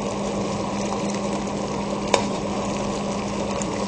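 Sugar syrup for sweets simmers in a pot over the lowest heat, giving a steady, even bubbling hiss with one small clink partway through.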